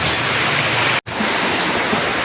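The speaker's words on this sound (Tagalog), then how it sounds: "Walang tigil ang ulan mga idol." Heavy rain pours down in a dense, steady hiss, briefly cut off for a split second before resuming just as loud.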